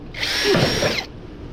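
A power drill whines loudly for about a second as it bores a hole into a wall for an anchor, then stops abruptly, with no talking.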